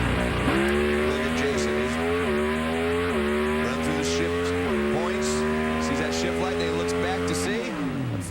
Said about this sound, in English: Just a great old drag race.